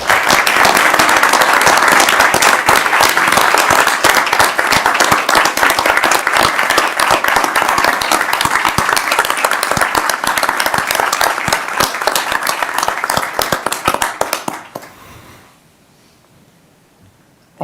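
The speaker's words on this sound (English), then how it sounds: "please rise and applaud her as I do" A meeting audience rising to give a standing ovation, loud close sustained clapping with sharp individual claps, thinning out and fading to near silence over the last few seconds.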